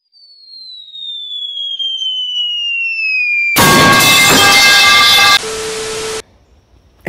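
A Federal Signal 500 outdoor warning siren in Lombard winds down in one long falling wail, then a loud, harsh burst of noise gives way to a steady lower tone that cuts off abruptly.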